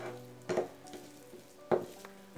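Spoon scraping and stirring potato stuffing with coriander chutney in a pan over a soft sizzle, with two sharper scrapes standing out against the quiet frying.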